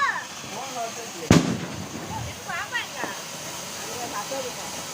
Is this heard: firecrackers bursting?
yes